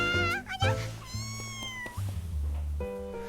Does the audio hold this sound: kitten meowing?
yes